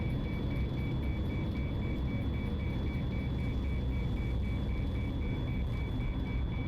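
A cockpit warning in the X-Plane 11 flight simulator, flying an A319 or 737: a steady, evenly pulsed electronic beep repeating over a constant loud engine or cabin rumble, with no talk.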